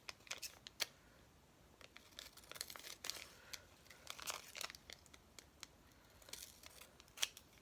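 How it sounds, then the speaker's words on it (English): Scissors snip through tape for a vintage Halloween paper craft, giving quick, close, crisp cuts in irregular bursts. Light crinkling of paper and tape runs between the snips. "So I'm just going to cut it now."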